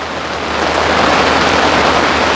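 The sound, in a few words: heavy summer rain falling on a pool umbrella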